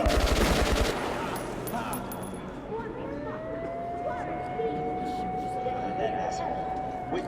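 Gunfire from the video game Metro Last Light opens with a dense, loud burst of automatic shots, then gives way to distant shouting soldiers, scattered footsteps and lingering game ambience.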